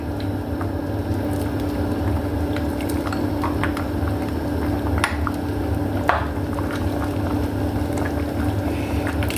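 Grated young coconut goes into a pot of simmering glutinous rice balls, the liquid bubbling and gurgling steadily with soft wet plops and squishes up close, no talking.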